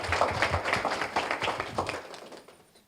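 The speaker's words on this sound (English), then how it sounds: "let's give her a round of applause" Audience at a DBE certification workshop gives a short round of applause, a dense patter of claps that fades out after about two seconds.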